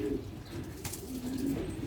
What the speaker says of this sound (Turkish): Bunlar posta güvercini değil mi?